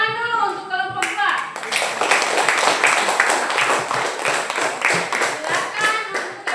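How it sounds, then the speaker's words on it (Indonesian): A classroom group claps for a team of students: dense, steady applause from many hands runs for several seconds right after a brief spoken line, filling the room at close range. "Oke, tepuk tangan dulu untuk kelompok 2."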